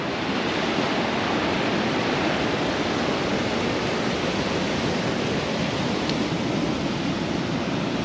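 Mediterranean sea waves wash onto the shore in Lebanon, a steady, dense rushing roar with no pauses and no voices.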